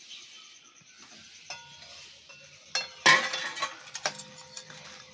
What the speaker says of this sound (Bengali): ডাইরেক্ট কড়াই থেকে তুলবো আর দিয়ে দেবো আমি মিষ্টির রসে।